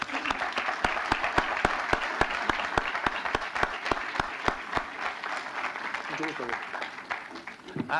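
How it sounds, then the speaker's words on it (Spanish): An audience applauds the speakers at a public security and justice forum in a Senate setting, steady dense clapping held for several seconds, then thinning and fading toward the end. "agradeciéndoles con un aplauso a nuestros ponentes"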